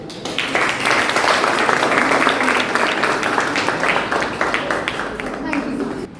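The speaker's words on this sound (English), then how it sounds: "Let's clap for them" Sustained audience applause after a live performance, a dense wash of many hands clapping steadily for the full six seconds, loud and close.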